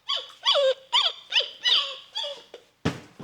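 A 2001 Mattel radio-controlled Goddard robot dog toy from Jimmy Neutron plays an electronic sound effect: a quick series of about seven squeaky, yelping synthetic barks, followed by a sharp mechanical click close by.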